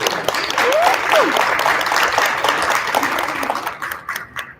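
Applause from an audience at a credit union's annual meeting, honoring the board members: steady, dense clapping that fills the room for several seconds, with a few voices mixed in, then thins toward the end.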